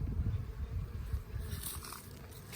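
Honey bees buzzing around a backyard hive on a day they are bringing in pollen, a low, steady droning hum close by, faint and continuous with no voices.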